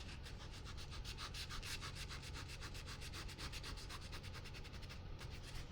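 A clean paper towel rubs acrylic paint off a painted canvas, a close, steady, rapid back-and-forth scrubbing rasp that repeats rhythmically and continuously.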